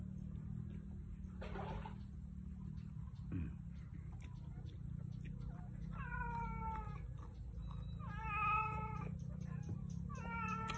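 Several cats meow in short, repeated bursts, a few close together near the end, over a steady low background hum with a faint thump early on.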